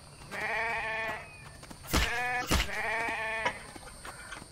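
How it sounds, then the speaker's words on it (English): Sheep in the video game The Infected bleat loudly and close by, with three drawn-out wavering calls in quick succession and no talking over them. "Stop running around, crazy sheep."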